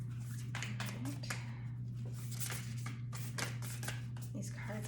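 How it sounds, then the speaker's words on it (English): Large tarot cards being shuffled by hand: repeated soft riffling and flapping bursts, close and fairly quiet over a steady low hum, with a voice speaking in between. "maybe 1 more shuffle"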